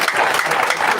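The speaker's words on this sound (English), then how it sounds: "I will ask each of us to clap for our able panel" Audience at a political event clapping for a panel, a dense steady patter of many hands sustained for about a second, fairly loud and close with no talking over it.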